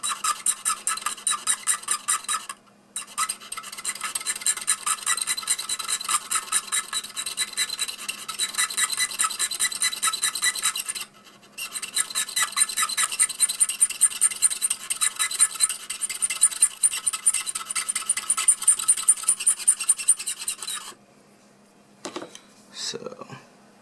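A steel Platinum Preppy fountain pen nib is ground into a stub, giving a steady, close, rhythmic rasping scrape that runs in long strokes with two short pauses and trails off near the end.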